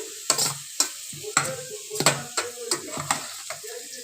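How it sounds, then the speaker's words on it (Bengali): Mashed cabbage, potato and tomato are stirred into a hot frying pan, giving a steady sizzle with repeated sharp scrapes and clinks of a spatula against the pan in an uneven rhythm, close and fairly quiet. "বাঁধাকপি আলু টমেটোটা আমি ম্যাশ করে নিয়েছি এবার আমি এগুলোও দিয়ে দেবো ওর মধ্যে"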